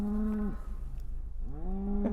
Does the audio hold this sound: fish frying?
no